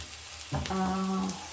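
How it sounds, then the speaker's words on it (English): Chopped garlic goes into a pan of onions cooking in oil. A brief, moderately loud sizzle bursts up after a quiet start and then fades out. "once my onion is ready, I'll just go in with my garlic"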